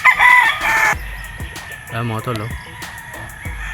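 A Batangas gamefarm gamecock crows once loudly and close at the start, followed by clucking and short calls while someone speaks nearby.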